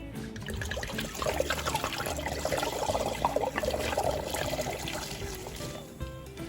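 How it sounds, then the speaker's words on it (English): Wine poured into a large pot of water, giving a steady splashing, trickling stream that runs for several seconds and then eases off, close and alone with no talk. "And now we add the wine."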